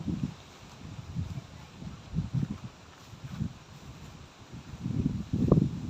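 Wind sweeps across an open rice field, coming in low, rumbling gusts that swell and fade unevenly, buffeting the microphone, with no voices.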